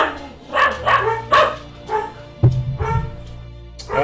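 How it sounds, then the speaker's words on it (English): Several dogs bark in a home, a string of sharp, close barks and yips in quick bursts with brief pauses, loud and alone without talk. "Oh, I love how my dogs bark while I'm streaming."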